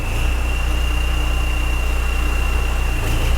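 A TDI diesel engine swapped into a VW mail truck drones steadily while driving, a loud, even rumble with a constant high whine over it and no talk.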